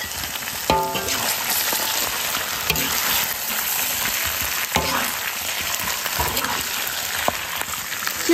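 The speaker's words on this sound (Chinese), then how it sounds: "现在把刚才煎好的豆腐倒进来一起翻炒" Previously fried tofu is stir-fried in a wok with browned meat and fermented chili sauce, a steady loud sizzle punctuated by several clanking spatula strokes and scrapes against the metal, with no talking.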